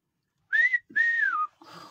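A person whistles two sustained, gliding tones close to the microphone, the second long and slightly falling, followed by a softer third whistle with some faint background noise.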